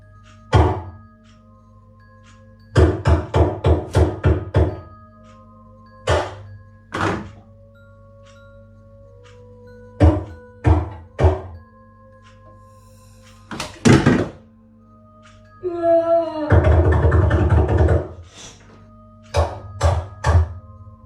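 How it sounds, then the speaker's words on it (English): Strong, clear knocking on a door comes in several separate bursts of rapid loud thuds, with a brief scraping rattle in between, in an otherwise quiet room. "First, strong and clear knocking is heard from the door."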